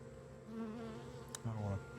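Honeybees buzz steadily around an open hive during a late-summer swarming attempt, a dense close drone that swells louder near the end, with a brief sharp click partway through.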